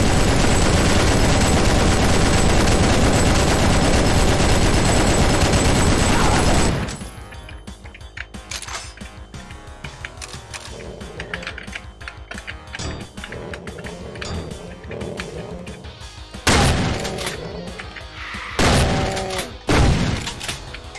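Chain gun firing in the video game Doom, a dense broadband roar of rapid gunfire that drops after several seconds into sporadic shots and blasts, loud and close, with no talk over it.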